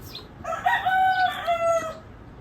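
A bird calling at a window: a single drawn-out, harmonic, crow-like call lasting about a second and a half, close and clear with nothing else over it.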